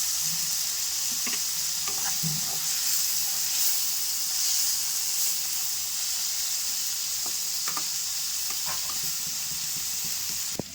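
Curry leaves and green chilies fry in hot oil for a potato poori masala, giving a continuous loud sizzle with occasional light stirring clicks.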